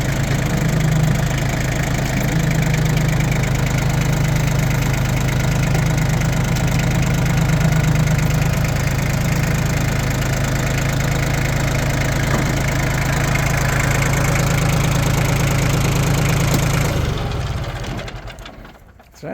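A Yanmar F20D compact tractor's diesel engine idles steadily and smoothly at close range, a low constant chug that holds for most of the clip before winding down near the end.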